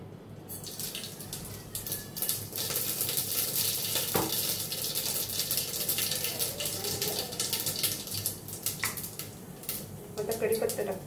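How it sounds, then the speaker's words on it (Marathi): Mustard seeds and cumin sizzle in hot oil inside a pressure cooker for a potato and pea vegetable dish, a steady crackling hiss that runs throughout with a few sharper pops near the end. "आता राई जिरे टाकून घेते।"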